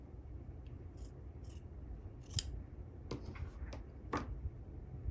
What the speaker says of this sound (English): So I'm just going to cut, just eyeballing it.